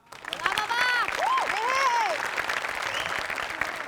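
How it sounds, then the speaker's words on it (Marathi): A studio audience at a comedy show applauds a performer who has just danced kathak. The dense clapping is loud and continuous, with voices calling out over it. "सगळ्यात आधी आपण टाळ्या वाजवूया बाबासाठी."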